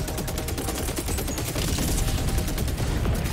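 Sustained rapid gunfire from a sentry turret in the video game Helldivers 2, a loud, steady stream of overlapping shots that runs without a break and thickens slightly midway.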